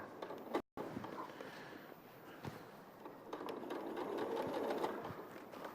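A sewing machine stitches a seam at a steady, close mechanical whir, with a brief gap near the start before the sewing resumes and picks up pace.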